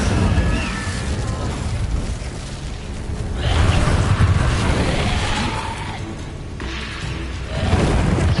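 Incendio fire spell bursts in the game Hogwarts Legacy, with heavy whooshing blasts and booms swelling over a dense, continuous combat roar, loud and close.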